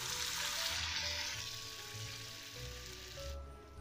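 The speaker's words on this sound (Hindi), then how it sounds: "तेल भी गर्म हो चुका है, तो जल्दी से डीप फ्राई कर लेते हैं" Vegetable tikki patties deep frying in hot oil for a veg burger, a steady broad sizzle with bubbling crackle throughout, moderately loud and close, with a faint low hum underneath and no talking.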